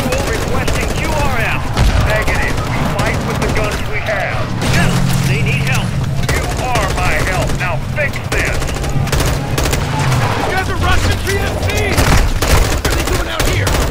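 Rapid automatic gunfire from a Call of Duty Modern Warfare 2 firefight against Russian PMC troops rattles in sustained bursts throughout, mixed with mechanical clatter while voices talk over it.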